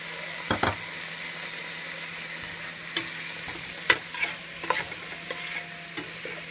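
Tomatoes sauté in hot oil in a pan with a soft continuous sizzle, punctuated by a few distinct scraping stirs and clinks of a spatula at irregular intervals.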